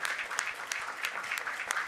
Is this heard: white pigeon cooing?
no